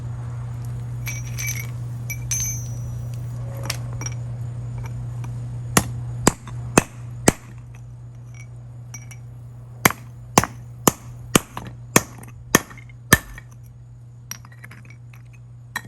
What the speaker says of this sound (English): we just take the good old-fashioned hammer way to it